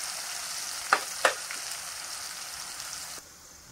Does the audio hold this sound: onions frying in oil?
yes